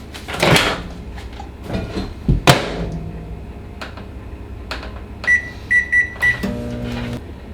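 A microwave oven runs with a steady hum, finishing in a series of beeps, after clattering of a door or cupboard opening and closing nearby.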